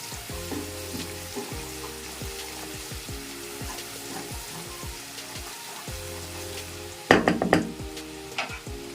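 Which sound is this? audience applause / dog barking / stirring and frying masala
stirring and frying masala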